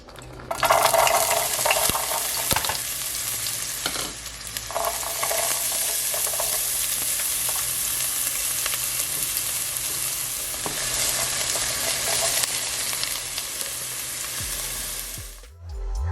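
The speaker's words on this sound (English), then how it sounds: "add in your carrots, celery, onions, and all your seasonings into the pot and let it cook for 2 or 3 minutes" Carrots, celery, onions and seasonings sauté in oil in a pot, giving a loud, close, continuous sizzle with occasional stirring clatter that fades out at the end.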